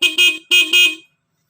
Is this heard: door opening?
no